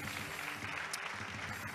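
Crowd applause at a wedding honoring the couple's family, a steady faint wash of clapping across the short stretch with no voices standing out.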